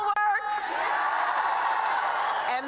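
A crowd at a Kamala Harris rally in North Carolina cheers and whoops loudly, a sustained roar of voices and shouts that fills the space, with a brief sharp click near the start.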